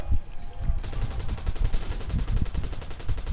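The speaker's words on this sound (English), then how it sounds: "Aku tengah tembak, aku tengah tembak Mr. Rubio ni." Rapid gunfire from a Grand Theft Auto heist mission, a dense run of repeated shots starting sharply after a quieter moment and continuing steadily and loud to the end.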